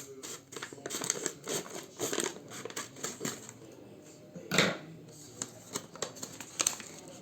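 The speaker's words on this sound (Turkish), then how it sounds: "makasımızı aldık. Şimdi kesiyoruz." Scissors snip through a package wrapper in a series of crisp, irregular cuts close to the mic, with one louder rustling crunch midway and quieter crinkles between.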